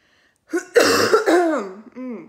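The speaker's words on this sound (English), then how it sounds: "cough is still here." A person coughs once or twice from close by, with throaty, voiced bursts that trail into a rasping clearing of the throat, alone with no talk around it.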